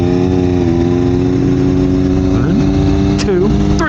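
A 2021 Triumph Daytona 765 Moto2 motorcycle with a Street Triple-derived engine runs loud and close at wide-open throttle, a steady droning engine note with pitch sweeps near the end as it shifts.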